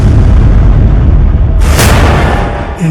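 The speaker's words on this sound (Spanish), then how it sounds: "la rutina matinal de Philip se vio interrumpida por una explosión violenta" A loud, sustained roar of a violent explosion, with a sharp bright burst midway layered over a deep rumbling blast that slowly fades.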